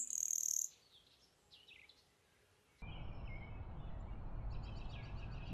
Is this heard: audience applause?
no